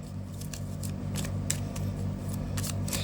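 Tarot cards are shuffled by hand up close, a series of quick crisp riffling flicks in an irregular rhythm over a low steady background hum.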